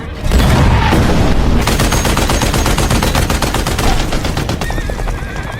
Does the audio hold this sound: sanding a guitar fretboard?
no